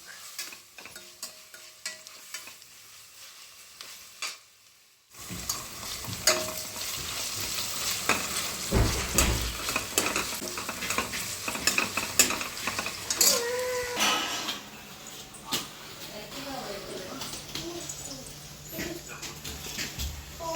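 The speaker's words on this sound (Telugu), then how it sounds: "ఆనియన్స్‌కి కొద్దిగా గీలో వేగితే చాలా బావుంటాయండి ఉల్లిపాయలు." Onions frying brown in ghee in a home kitchen: a near-silent start gives way to loud, continuous sizzling and crackling, with scraping and stirring clatter of a utensil against the pan throughout.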